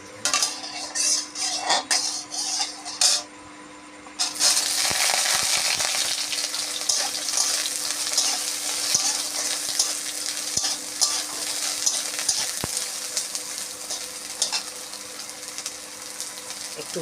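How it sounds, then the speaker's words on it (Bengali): Soybean chunks sizzle loudly in hot oil in a wok, a dense steady frying hiss that begins abruptly a few seconds in after some clinking and stirring, with occasional scrapes and taps of a utensil against the pan. "আগে আমি সয়াবিনগুলো ভেজে নেব"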